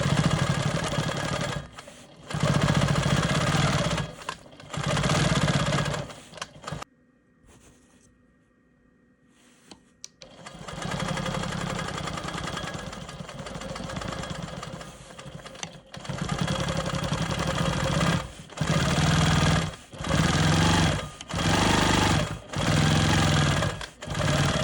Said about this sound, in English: I'm going to go ahead and stitch up this line